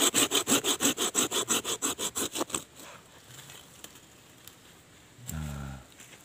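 Branch of a Serut (Streblus asper) bonsai cut with a saw: about a dozen quick, even, rhythmic strokes, close and loud, then the sawing stops and a brief low rustle follows near the end.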